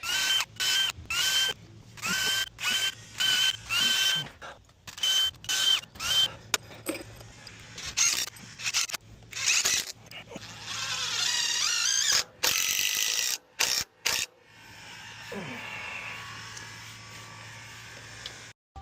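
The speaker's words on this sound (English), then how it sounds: "I'm going to set a mark on my bit, so I'm only going to drill into this maybe 1/8 of an inch or 1/4." A drill bores shallow holes into timber for a timber-frame joint, the bit marked to stop about 1/8 to 1/4 inch deep. Short whirring bursts repeat in a quick stop-start rhythm, then a longer, steadier run follows.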